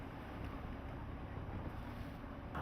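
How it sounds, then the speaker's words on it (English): RS Elite keelboats race in close formation on open water during Cowes Week, heard as a dense, steady rush of wind buffeting the microphone over sloshing water and hull noise. "There are 10 RS Elites racing here, and they headed off from the line in close formation at the start of their 16-mile race."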